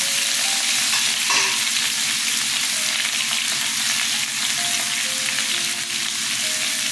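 Drumsticks are frying with potatoes in a pan, a loud, steady close sizzle with rapid crackling bubbles continuing without pause.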